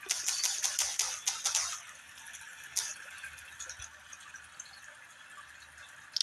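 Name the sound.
typing on a keyboard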